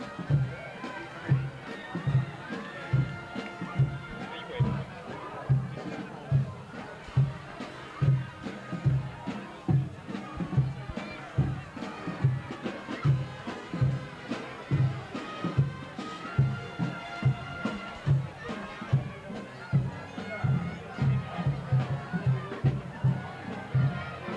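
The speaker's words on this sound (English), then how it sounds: "An enthusiastic crowd here tonight." A crowd at a 1984 high school football game between the Eagles and Archbishop Carroll keeps up a steady roar, with loud rhythmic thumping pulses and scattered cheers running through the whole stretch.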